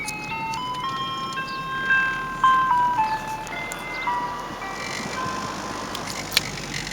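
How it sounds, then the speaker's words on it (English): An ice cream truck on a street plays its tinkling melody from a moderate distance, steady and fairly faint over low traffic rumble, with no talk. "I can hear the ice cream truck out my window."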